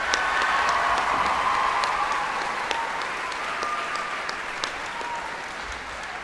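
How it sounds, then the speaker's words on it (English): Concert audience applauding a choir performer at an evening choral gala, a steady dense wash of many hands clapping throughout, fairly loud and even, gradually easing slightly toward the end. "Another round of applause, please, for Estella"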